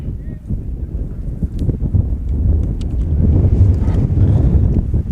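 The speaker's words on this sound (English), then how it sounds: "And of course, there's the wind." Wind gusting up to 36 miles an hour buffets the microphone at a high school baseball game, a low, rumbling roar that builds steadily louder, with faint sounds in the background.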